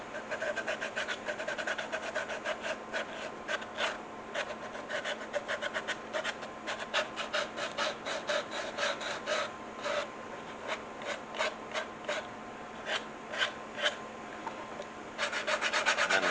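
Coarse sandpaper rubs the edge of a leather cell phone holster in quick, rhythmic rasping strokes, close and steady throughout with brief pauses between passes.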